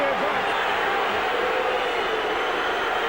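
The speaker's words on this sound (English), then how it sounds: "Well, the Wigan crowd don't like it. They're giving Ian Smith the bird" Wigan rugby league crowd booing during a 2003 match against Widnes, a loud, sustained wash of jeering from the stands that holds steady throughout.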